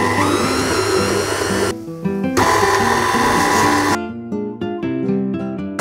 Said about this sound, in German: Den Teig bereite ich jetzt hier in meiner KitchenAid zu.